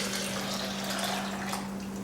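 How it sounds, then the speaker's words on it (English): Water pours steadily from a container onto soaked almonds in a kitchen blender jar, a continuous close splashing wash with a low steady hum underneath and no talking. "And then I'm gonna add some water."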